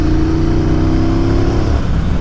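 A Triumph Bonneville Speedmaster motorcycle engine runs close and loud with a steady, droning rev and a rough low rumble.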